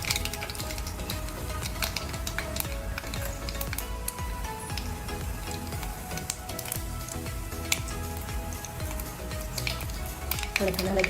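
Mustard seeds crackle in a spoonful of hot oil for a tadka, a busy sizzle peppered with sharp pops and clicks, close to the pan.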